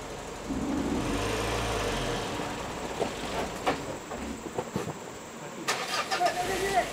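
A military vehicle's engine drones and revs as it struggles along a muddy track, a loud steady rumble with rising surges toward the end while people call out nearby.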